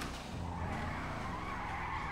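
A continuous screech of tires skidding as a car drifts, steady and fairly loud with engine roar beneath it.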